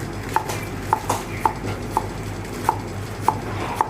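Steady knife chops dicing carrot knock on a wooden board, about eight clear strikes at a brisk, fairly even pace, close by with no voices.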